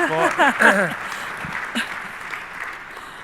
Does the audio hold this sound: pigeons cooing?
no